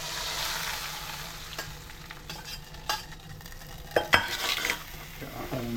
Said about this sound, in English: There'll be a few sizzles as it goes in.